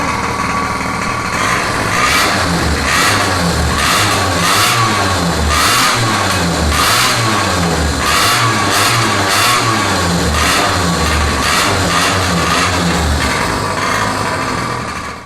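A pocket bike's small engine revs through a custom exhaust, a loud, rapid, buzzing rasp that rises and falls in steady bursts close by, with no voices.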